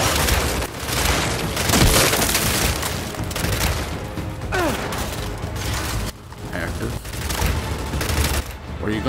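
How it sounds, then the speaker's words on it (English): Rapid, loud gunfire from a heavy-kicking weapon in the video game Gears 5, sustained bursts with splintering impacts and explosions, a voice talking over the shooting. "This gun has a lot of kick to it, man."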